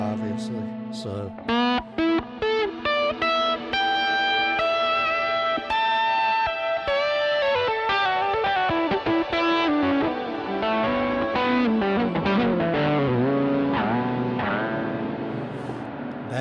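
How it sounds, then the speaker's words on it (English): An electric guitar plays melodic lines through a pretty aggressive reverb with delay-driven modulation, so the notes ring out into long washy tails. The playing is loud and continuous. "And a pretty aggressive reverb"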